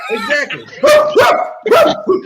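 People mimic dog barking in loud, close bursts of bark-like yelps and woofs, several in quick succession, with voices and laughter mixed in.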